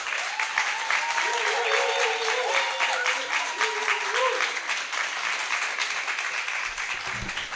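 Steady audience applause fills a small open mic night at a creative cafe after a poem, dense clapping sustained throughout with some crowd noise and a few tonal sounds over it.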